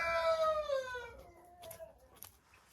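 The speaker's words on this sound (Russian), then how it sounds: "Это курочки Dark Shell." A Dark Shell hen gives a loud, drawn-out call that slides downward over about two seconds, followed by quieter clucks nearby.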